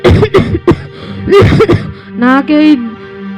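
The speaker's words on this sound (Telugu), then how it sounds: "దగ్గు ఆగట్లేదు." A performer in a comedy skit voices a bout of coughing and throat clearing after complaining of being covered in dust and dirt. The harsh bursts are close, loud and come in a quick run, followed by a strained, drawn-out voiced sound.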